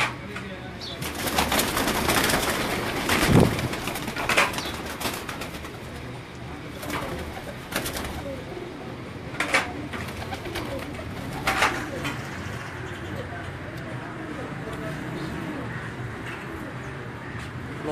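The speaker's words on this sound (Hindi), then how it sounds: "ये भी उसी नस्ल का कबूतर है दोस्तों" Gogay-breed pigeons coo softly and repeatedly nearby in Gujranwala, with occasional wing flutters and a person talking in the background.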